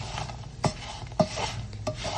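Seasoned potatoes being stirred in a pan for a sausage and potato breakfast burrito, with three sharp utensil knocks against the pan over a soft, steady sizzle.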